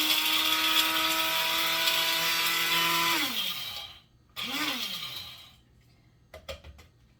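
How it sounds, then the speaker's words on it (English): A coffee grinder grinding spices whirs loudly for about three seconds, winds down, then gives a second short burst before falling quiet, with a few small clicks after. "I just took a coffee grinder"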